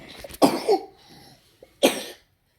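Several coughs from a person with a cold: a short cluster of close, harsh coughs, a pause, then one more loud cough, with no talking.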